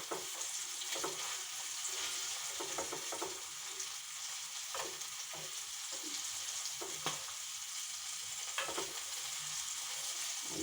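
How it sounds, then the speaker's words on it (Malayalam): Spinach curry frying with garlic and curry leaves in hot oil, a steady close sizzle with scattered stirring scrapes and taps throughout, no talking. "നല്ലൊന്ന് മൊരിയണം."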